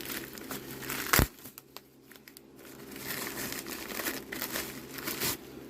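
Packing material around a shipped game cartridge gets pulled open and unwrapped, close crinkling and rustling with one sharp tear burst early, then continuing softer and louder crumpling, no voices.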